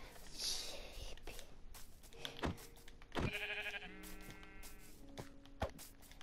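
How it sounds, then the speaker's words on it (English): A sheep bleats a few times in Minecraft, short nasal calls amid faint game sounds, quick clicks and soft rustles, with a quiet voice nearby. "Sheep."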